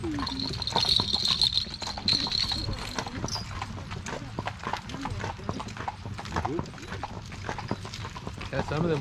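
Rhythmic clip-clop of horse hooves on a hard surface, close by, with people talking over it throughout.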